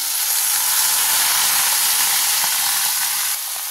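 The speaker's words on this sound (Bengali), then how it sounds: "সবজিগুলো কিন্তু আমি এখন দিয়ে দিচ্ছি" A loud, steady hiss of mixed vegetables sizzling in a hot pan fills the whole stretch, bright and close, easing slightly just before the end.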